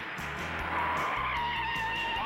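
Race cars skid hard in a four-car pileup on a racetrack, tires squealing loudly and continuously with engine roar underneath, no voices present.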